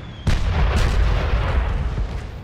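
A cannon fires in the World War I video game Valiant Hearts: The Great War, giving one loud, close boom followed by a rumbling roar and a second thud.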